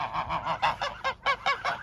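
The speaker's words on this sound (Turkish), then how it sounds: "Kazlarımız burada." Geese at a zoo honk repeatedly in a rapid, rhythmic series of nasal calls, fairly close and loud, with no talking.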